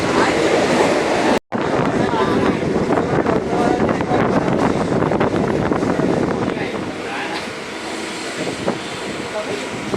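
Bombay local train rolling along with an empty carriage, loud continuous rumble and clatter of wheels on track mixed with rushing wind through open doors, with a brief dropout early on and the noise easing slightly toward the end.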